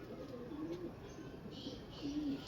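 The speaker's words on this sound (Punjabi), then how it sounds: "ਬਹੁਤ ਤਕੜਾ ਕਬੂਤਰ" A large, sturdy pigeon of a prized breed coos softly in short low murmurs, steady and close, with a faint background hiss.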